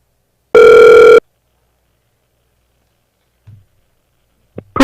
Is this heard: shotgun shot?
no